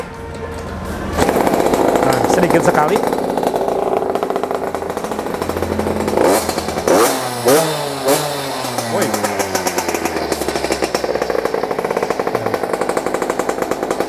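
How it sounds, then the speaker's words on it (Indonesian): A 50cc two-stroke mini trail bike is kick-started and catches, revving in a sharp, buzzy rattle and settling into a fast idle, with a voice speaking briefly. "cara menghidupkannya, ini di engkol sama ya, sama seperti motor-motor kompetisi yang 50cc 2 tak."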